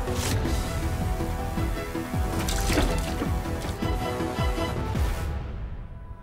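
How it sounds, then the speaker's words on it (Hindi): Water splashes and trickles steadily for several seconds, a continuous wet, bubbly pour close by with small drips and sloshes throughout. "निशान, पानी डालो उसमें।"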